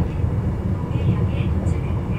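A train in Gangwon-do rolls along the sea coast, a steady low rumble heard from inside the carriage, with faint voices over it.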